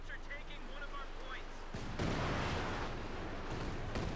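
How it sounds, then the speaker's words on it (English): A Panther artillery barrage in Company of Heroes 2 rumbles in as a broad, dense burst of distant explosions, swelling midway and continuing while a commentator talks over it. "Got a Panther barrage off as well"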